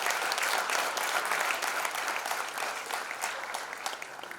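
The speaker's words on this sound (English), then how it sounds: "zordar se ek enthusiastic round of applause ho jaye to welcome all of our dignitaries as well" Audience applause welcoming dignitaries at a foundation launch event, a broad, steady clapping from a sizeable crowd that thins slightly toward the end, heard from some distance at low level.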